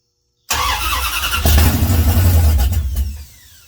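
A junkyard Dodge D150 pickup's engine, still carrying the tune-up for a 440, cranks on the starter after a moment of silence, then catches and roars loudly with a rising rev before dropping back off, close and without talk.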